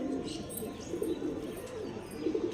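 Pigeons coo softly and repeatedly nearby, low rolling calls with a few faint chirps and background noise.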